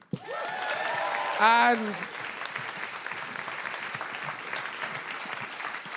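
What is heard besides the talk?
audience applauding the show's guests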